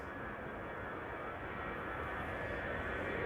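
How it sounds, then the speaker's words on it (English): KLM Airbus A330 airliners departing Schiphol, a steady broad jet-engine roar that holds level throughout, loud and continuous with no other sounds over it. "Two A330s from KLM coming this way"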